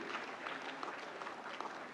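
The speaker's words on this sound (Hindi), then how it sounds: "जोरदार तालियां इन अवार्डीज के लिए।" Steady applause fills the hall at the 69th National Film Awards ceremony as award winners are honoured, a dense, continuous patter of many hands clapping at even loudness with no voices over it.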